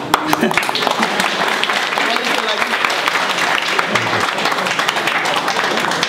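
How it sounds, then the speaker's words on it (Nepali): A college audience applauds, a sustained wash of many hands clapping at once, loud and even throughout, with a brief voice surfacing near the middle. "फेरि पनि ताली"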